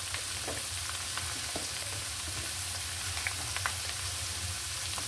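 Snake gourd frying in a pan with turmeric, giving a steady close sizzle with occasional crackles and light stirring throughout, no voices.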